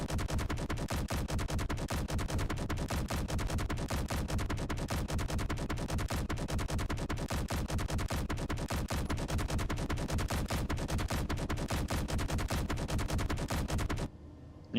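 Auto cannons mounted on a fighter in a video game fire in a dense, unbroken rapid stream of sharp reports for about fourteen seconds, loud and steady, then cut off abruptly with no voices heard.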